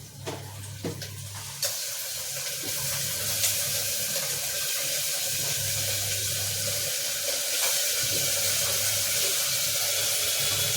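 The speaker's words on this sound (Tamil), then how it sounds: "இப்போ வந்து நம்ம வச்சுருக்குள்ள சிக்கன் அலசி அதை சேர்த்துக்கலாம்" Water runs steadily from a tap into a sink as chicken is washed, a continuous splashing rush after a few brief clatters at the start.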